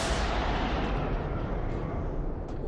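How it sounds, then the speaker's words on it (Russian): A heavy gunshot rings out in The Darkness, a loud, sustained boom with a broad rumbling tail that fills the whole moment, no voices over it. "Это что, был выстрел?"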